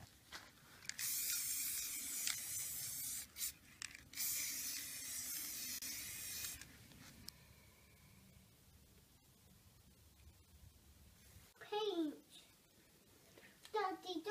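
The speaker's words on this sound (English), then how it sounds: "I'm going to spray them in a bronze colour" Bursts of hissing spray from a bronze spray paint can, used on a TV cabinet, come in a few long blasts, then quieter gaps with a voice chattering nearby.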